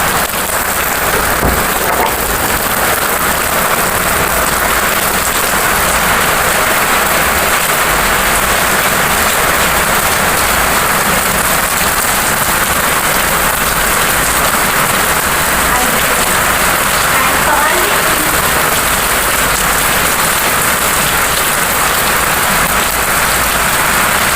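Heavy night rain at about ten o'clock pours down in a dense, unbroken hiss that stays loud and even for the full twenty-odd seconds.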